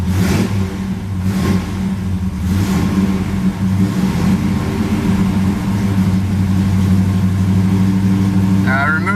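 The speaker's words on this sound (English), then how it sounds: "It's running a little rough. Not quite firing all cylinders yet." A Camaro engine with its choke removed runs rough and misfires, not firing on all cylinders while held on the gas to warm up, a loud, steady, uneven rumble with wavering revs and a brief clatter near the end.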